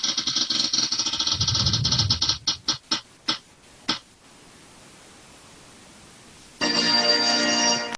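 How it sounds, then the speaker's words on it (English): A chord-picking wheel is spun by hand for a key-of-G music lesson, whirring briefly and then ticking in a run of sharp clicks that spread farther apart as it slows to a stop, followed by quiet. "I'm going to spin the wheel."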